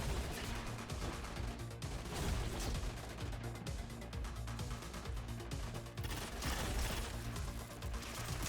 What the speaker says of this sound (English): Explosions go off.